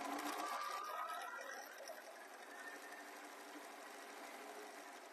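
A sewing machine stitches around three sides of a fabric phone case, a steady fast mechanical whir that runs evenly throughout, close but not loud.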